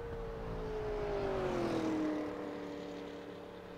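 A super late model race car laps Five Flags Speedway during qualifying in iRacing. Its engine drones with a rising then falling pitched whine that swells past and gradually fades, with no voices over it.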